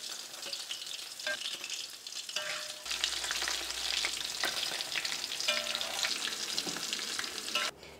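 Popcorn chicken frying in hot oil, a steady crackling sizzle with bursts of popping and a few scrapes and clinks of a utensil as the pieces are turned.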